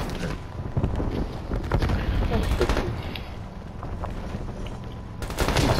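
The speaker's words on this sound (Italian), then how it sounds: "sparo ovunque, ma veramente fa cagare sto mod" Rapid bursts of gunfire from a modded shooter video game, crackling and dense across the whole stretch, with wind-like noise and game sounds mixed in under talk.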